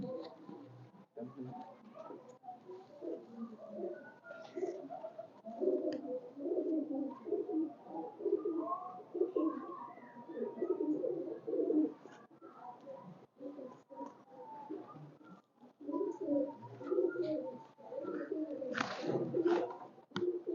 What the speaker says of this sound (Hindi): ये प्रवास वाले कबूतर हैं सारे।